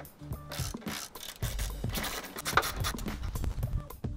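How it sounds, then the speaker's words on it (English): 8mm socket ratchet loosening the lower grille fasteners on a 2018-2020 Ford F-150, heard as a close, busy run of clicking ratchet strokes with mechanical rattles and handling noise throughout. "grab a 8mm socket and you want to remove both fasteners to the lower left and right of the factory grill"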